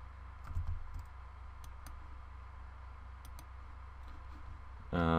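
Mouse clicks on a computer while working in Photoshop: a few faint, sharp clicks scattered over a steady low hum, then a louder burst of other noise at the very end.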